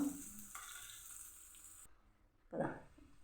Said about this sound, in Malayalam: ഇതിൻ്റെ വെളുത്തുള്ളീൻ്റെ കളറൊക്കെ ഒന്ന് മാറിക്കിട്ടും വരെ വയറ്റി കൊടുക്കണം